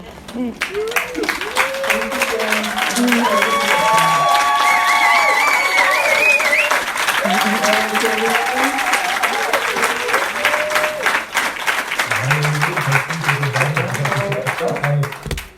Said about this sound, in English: I'm going to turn the camera around so everyone else can applaud and thank you as well.